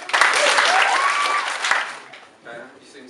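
An audience in a small venue claps after a poem is read, a dense burst of applause that fades out after about two seconds, with a voice speaking briefly near the end.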